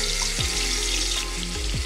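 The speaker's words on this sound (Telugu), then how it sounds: "ఉల్లిపాయ పేస్ట్ ఇందులో వేసుకుందాం." Onion paste frying in hot oil inside a pressure cooker while making paya soup: a steady, loud broadband sizzle runs throughout with a few low clunks of utensils, and no talking.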